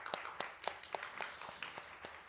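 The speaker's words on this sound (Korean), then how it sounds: "다 함께 예수님께 영광과 존귀의 박수를 올려드리겠습니다" A small university-group congregation at a Christmas worship service gives brief, sparse clapping, with a handful of distinct claps spread evenly over a couple of seconds, faint and somewhat distant.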